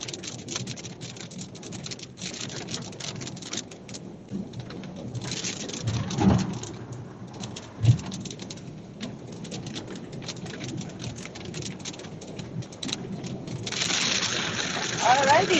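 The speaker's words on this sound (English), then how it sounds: "Oh, it's sprinkling now." Continuous patter of rain on a car while driving fills the clip, with a couple of louder thumps and a sharper crackle near the end; no voices.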